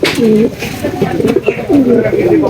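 Several racing pigeons coo in overlapping, rolling calls close by, with soft rustling and faint background murmur between them.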